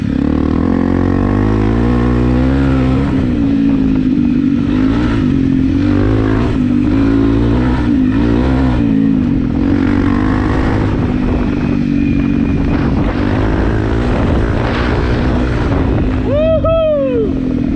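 Honda CRF 250 Rally motorcycle engine drones loudly and close while riding on slippery clay and dirt, rising and falling steadily with throttle changes. Wind buffets the microphone throughout, and a short rising whine comes near the end.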